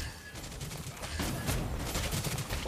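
Dense, continuous gunfire and skill effects from the marksman hero Clint in a Mobile Legends team fight, a steady loud barrage with overlapping shots and impacts throughout and no talking.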